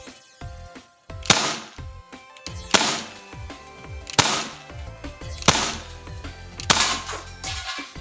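A WG321 airsoft gun fires BBs at a target about fifteen meters away: five sharp snapping shots spaced a second or so apart, close and crisp, each with a short metallic ring and no talking.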